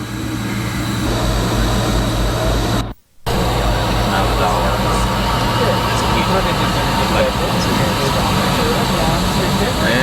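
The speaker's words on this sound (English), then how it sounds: "And we're going to have liftoff." An airliner's jet engines roar steadily during the takeoff roll, a loud broad rumble heard from inside the cabin, briefly cut out in a short gap, with a voice speaking over it.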